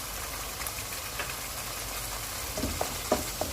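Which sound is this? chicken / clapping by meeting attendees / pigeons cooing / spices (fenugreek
spices (fenugreek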